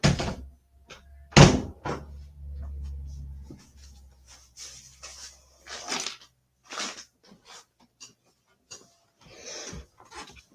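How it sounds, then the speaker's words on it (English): A room door is pushed shut with one solid thump near the start, followed by quieter scattered handling and shuffling noises nearby. "let me close this door"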